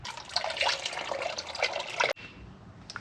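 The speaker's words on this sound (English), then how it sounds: "there's a hole in my oil bucket just draining out all over the floor." Oil pours from a hole in a bucket onto a garage floor in a steady, close splattering stream that cuts off abruptly near the end.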